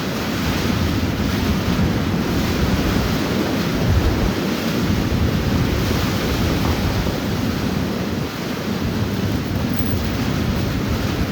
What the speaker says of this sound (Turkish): Çok sert bir rüzgar var ya.